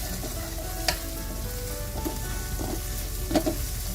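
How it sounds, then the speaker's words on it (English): Spice powder being stirred into a cooking masala paste in a pot for ground masala chicken biryani, with a steady frying sizzle and a few light scraping clicks of the spoon, no voices. "It's time to add the spice powder that we dry ground. Give it a good stir."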